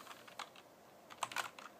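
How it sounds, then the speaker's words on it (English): Fingers tapping on a computer keyboard, typing a command in short bursts of quick, light clicks, close but faint, with a brief pause between bursts. "Then we need to type"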